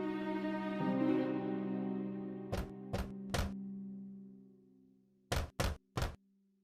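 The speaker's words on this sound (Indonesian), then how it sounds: "dan mengetuk pintunya." Knocking on a wooden cottage door: two groups of three sharp, loud knocks, spaced apart, heard over a fading sustained musical tone.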